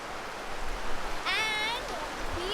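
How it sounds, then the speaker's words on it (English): Rain falls outside on a wet day in Havelock as a steady, close broadband hiss that runs throughout, with a brief high whistling tone rising over it midway. "As it was raining outside,"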